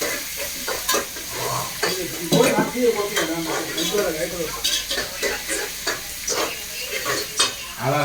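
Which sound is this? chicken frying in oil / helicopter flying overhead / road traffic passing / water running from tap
chicken frying in oil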